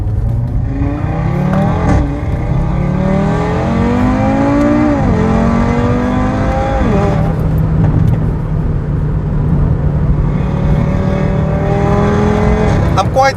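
Audi RS3 accelerating hard on a road, engine note climbing repeatedly through several quick upshifts, loud and close from inside the car, with no talk over it.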